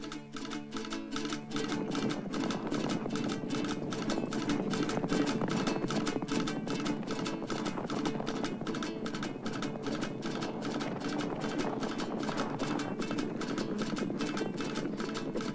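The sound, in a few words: horse hooves clip-clopping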